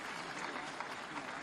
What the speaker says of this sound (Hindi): आपकी तालियां बहुत हल्की हैं मित्रों।